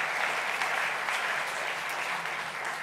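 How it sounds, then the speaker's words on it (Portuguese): Church congregation applauding during a Sunday Mass, a dense, steady wash of many hands clapping that holds evenly throughout, close and fairly loud, with no voices over it. "E para a Ana damos também uma grande salva de palmas"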